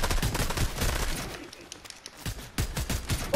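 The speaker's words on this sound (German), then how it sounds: "Ich schieß doch die ganze Zeit schon." Rapid bursts of gunfire from the video game Fortnite, loud and dense shots crowding the first stretch, a brief lull, then more volleys resuming near the end.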